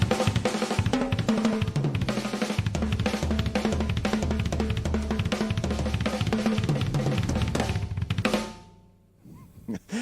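Rapid drum fills, split between hands and feet in groups of twos, fours and sixes, rolling densely across toms and kick for about eight seconds before dropping away to a faint tail and a last hit.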